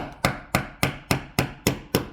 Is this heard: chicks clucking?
no